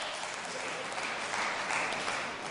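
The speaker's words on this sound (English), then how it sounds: "You're going to clap that? Who clapped that?" An audience at a Christopher Hitchens versus Peter Hitchens atheist-Christian debate claps steadily, a dense, continuous wash of many hands filling the hall without a break.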